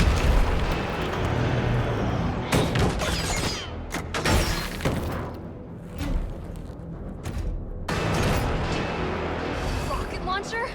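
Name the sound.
rocket launcher explosions in a video game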